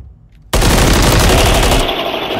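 A burst of MCW rifle fire in a Call of Duty match breaks a near silence and becomes a loud, rapid automatic stream that runs without a break to the end.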